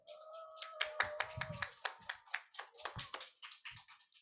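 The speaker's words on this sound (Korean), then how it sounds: "축하의 박수로 여러분들이 채워주세요" Applause from a church youth service congregation as four middle-school students come forward, a brief burst of scattered clapping that starts, thickens to a moderate crowd and fades, with a little murmuring underneath.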